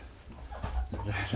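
A puppy at a Sunday animal service whimpers and pants close by in soft, uneven bursts, with some low vocal noise mixed in.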